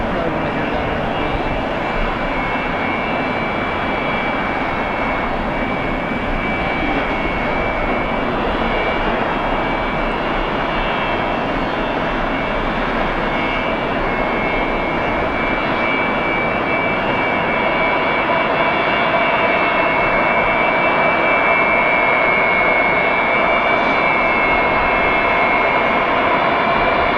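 Antonov cargo aircraft engines at Harrisburg airport, a steady, loud broadband jet roar with a sustained high whine, continuous for the whole stretch with no gaps.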